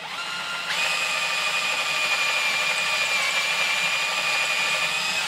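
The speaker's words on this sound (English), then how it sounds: "very carefully continue our drilling with this" A high, steady whine of a small power drill running continuously, close by, drilling into deer antler, with a constant pitch after it spins up.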